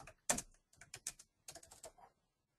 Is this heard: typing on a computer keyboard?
yes